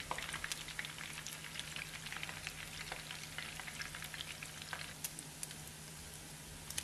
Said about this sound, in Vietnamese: Thì mình cho chả lá lốt và mình chiên được rồi.